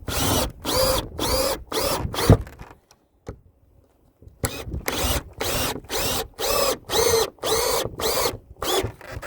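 A drill drives the last two screws into a shed roof in loud, close bursts: several quick pulses, a brief pause, then a longer run of rhythmic whirring pulses with no talking.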